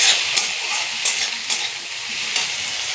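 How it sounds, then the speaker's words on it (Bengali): Chopped tomato and crushed garlic stirred in a hot pan, a steady bright sizzle broken by a few sharp scraping strokes of the spoon, close and fairly loud with no talking. "তারপরে আমি যে রসুন থেতো করা দিয়ে দিলাম, দিয়ে আমি নাড়াচাড়া করি।"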